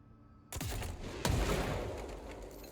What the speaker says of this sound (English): we have the charge, which is a rocket launcher